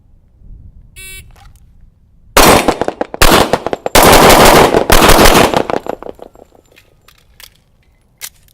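A 1911 pistol fires a rapid string of loud, sharp shots at targets, dense bursts of cracks packed over about four seconds, followed by quieter scattered reports and ringing tails.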